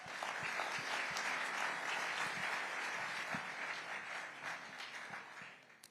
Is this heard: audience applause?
yes